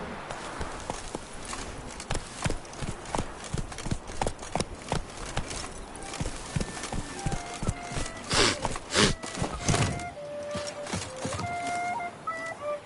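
Roach the horse galloping in The Witcher video game, with rapid rhythmic hoofbeats, close and loud, easing into slower clip-clops near the end as musical tones rise.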